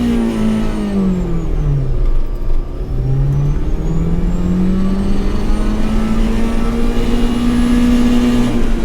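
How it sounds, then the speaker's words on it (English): A car launches in first gear, its engine revving loud and close with a rising whine, dipping briefly, then climbing steadily to high revs near the end, with no voices. "Now you're going to listen to the genuine sound of this car into first gear, revving the motor all the way."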